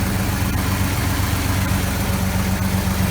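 A Chevrolet C10 pickup truck engine runs steadily after a water pump replacement, a loud, even rumble with a constant low hum and no change in pace.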